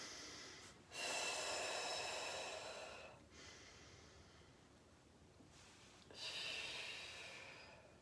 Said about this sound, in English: breathe in